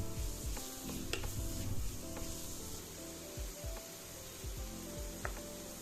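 Shredded pumpkin sautéing in butter in a pot for Jamaican-style pumpkin rice, a steady close sizzle with occasional scraping stirs over the whole stretch.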